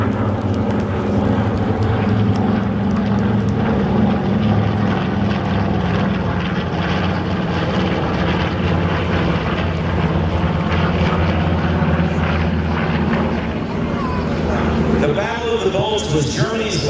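A Boeing B-29 propeller bomber passes overhead at a World War II victory flyover over the Capitol, its piston engines giving a loud, sustained droning roar with steady low harmonic bands throughout, and a crowd's announcer voice faintly beneath.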